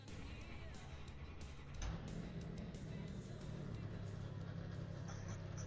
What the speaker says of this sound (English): it does sound like an old NASCAR. You hear that tone in the exhaust?